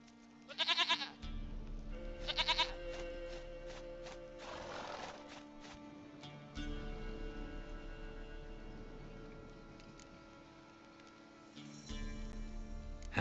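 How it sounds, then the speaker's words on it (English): A goat in the video game The Witcher 3: Wild Hunt, bleating in short bursts near and fairly loud against a quiet game ambience, with hooves and other animal sounds mixed in. "Goat of mine, dearest, sweetest goat."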